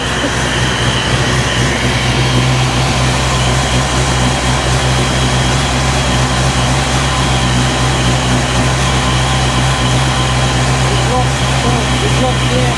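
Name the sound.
supercharged 347 Foxbody engine idling on Holley Super Sniper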